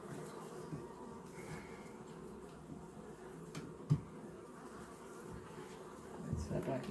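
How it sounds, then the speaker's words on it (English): Steady low buzzing of many honeybees close by during a hive inspection, faint and continuous, with a few soft knocks near the end. "Let the bees calm down a little bit."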